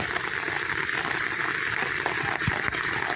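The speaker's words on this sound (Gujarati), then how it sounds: "જવો અજય પાણી વધવામાં છે" Continuous rushing floodwater after heavy rain surges loudly and steadily, a broad churning roar with no voices over it.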